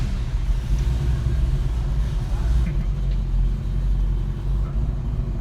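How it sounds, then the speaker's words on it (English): A deep, steady engine rumble from a 1967 Ford Mustang idling or cruising, heavy low-end throb continuing without a break. "people don't understand the American muscle car until you just hear that."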